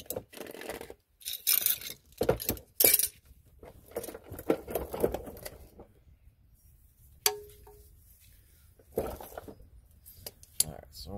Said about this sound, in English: Let's take this last bolt out.